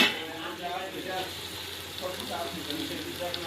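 Khichdi frying and being stirred in a pan, a steady close sizzle with soft scraping stir movements running throughout, with a voice talking faintly at times.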